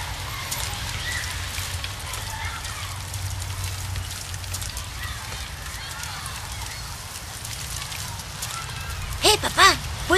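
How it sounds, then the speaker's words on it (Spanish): Steady rain falling in the video game Heavy Rain, a continuous hiss and patter under the scene's ambience, followed by a brief burst of voice near the end. "Ya va a empezar a llover."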